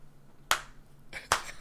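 A person imitates a crowd clapping in a school prank, producing two sharp, close hand claps about a second apart against a quiet background.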